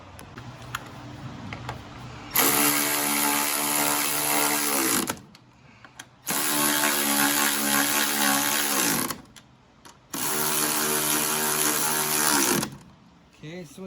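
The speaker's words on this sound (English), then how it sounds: "I will use the cordless ratchet" A cordless ratchet tightens strut bolts on a 1999 Honda Accord in three loud whirring bursts of a few seconds each, separated by short pauses.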